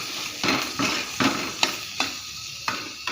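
Ground turmeric, cumin, chili powder and salt frying in a pan, a hissing sizzle broken by about eight distinct scraping stirs of a spatula at a fairly regular pace, close and clear.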